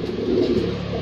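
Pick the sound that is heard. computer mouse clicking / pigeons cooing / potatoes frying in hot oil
pigeons cooing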